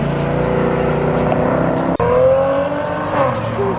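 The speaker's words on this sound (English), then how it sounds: "That's a Maserati." Maserati car engine on a Los Angeles street, a close, loud rumbling idle and rev with a rough growling texture, a brief dip midway, then a rising tone over faint background noise.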